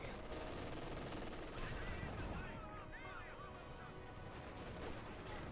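Browning light machine guns rattle in bursts amid a Company of Heroes 2 battle, dense and noisy with layered crackling fire and chirpy effects, fairly quiet overall with no clear speech.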